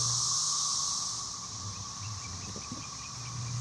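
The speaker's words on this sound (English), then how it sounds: "This is the sound of the 13-year periodical cicada that has been swarming the woodlands of western Kentucky" A steady, droning chorus of 13-year periodical cicadas in western Kentucky woodland, a high sustained whine, constant and fairly distant, over faint low background noise.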